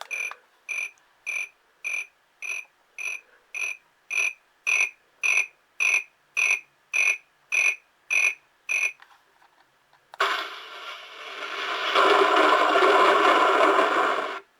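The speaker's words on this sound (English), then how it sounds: "Crickets." An MRC model train sound system plays a cricket effect as a loud, regular run of evenly spaced electronic chirps, followed by a stretch of near silence and then a burst of broad, rushing noise.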